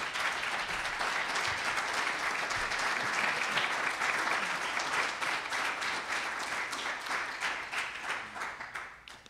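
Steady audience applause for a panel at a government transparency workshop, many hands clapping evenly for several seconds before thinning out at the end.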